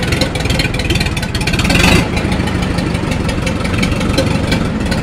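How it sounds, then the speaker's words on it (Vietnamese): A used Japanese Iseki TS2800 farm tractor's three-cylinder engine runs close by in a loud, steady rattling idle, with a brief swell in intensity near the start. "Đây động cơ có 3 máy nha."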